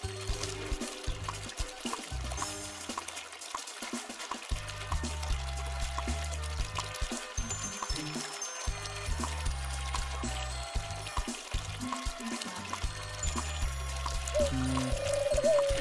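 Water pours steadily from a watering action in the Serin Fate video game, a continuous liquid stream over low, droning game music with no voices.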